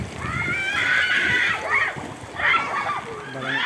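Floodwater splashes and sloshes in a flooded barangay street during Typhoon Kristine in Iriga, with choppy, continuous wading splashes close by, under a person talking.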